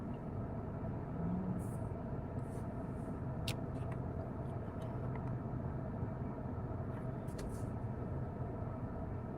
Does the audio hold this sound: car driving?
yes